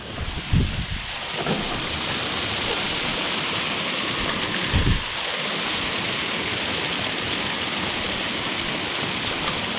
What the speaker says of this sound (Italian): è cominciato a piovere